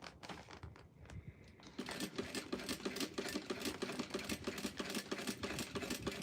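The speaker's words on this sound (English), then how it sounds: "I sewed this up and we will be done." Sewing machine stitching a napkin box cover: after a quiet start with some handling, the motor kicks in and runs steadily with a fast, even mechanical rhythm, close and clear.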